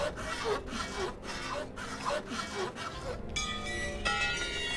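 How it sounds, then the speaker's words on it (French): Rhythmic back-and-forth sawing through a barricade in the survival video game This War of Mine, with about six even rasping strokes followed by a brighter ringing, scraping tone near the end. "On va aller scier ça."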